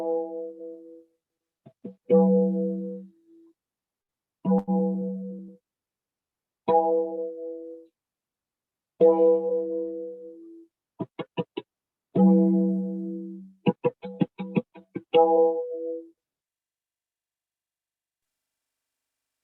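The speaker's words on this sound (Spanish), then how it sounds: "este tabla es un tabla fabricado en Varanasi" A large tabla made in Varanasi struck in short phrases of resonant, pitched strokes with bright ringing overtones and a few quick rapid flurries, close and alone, separated by brief pauses.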